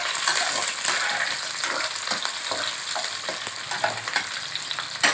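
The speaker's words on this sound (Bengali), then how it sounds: "কিছুটা কাঁচা লঙ্কা দিয়ে দিলাম, একটু হালকা করে ভেজে নেব।" Ginger and green chillies fry in hot oil in a pan, giving a close, steady crackling sizzle with occasional sharper pops and stirring scrapes, with no talking.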